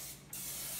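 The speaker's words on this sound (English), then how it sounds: "You're supposed to spray the pan first." A short burst of cooking spray into a pan hisses on sharply after a brief pause and keeps going steadily.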